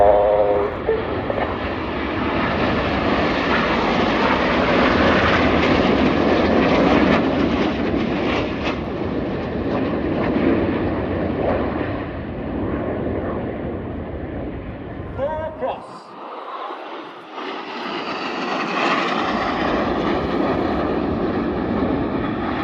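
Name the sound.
Red Arrows jet aircraft flying in formation at an air show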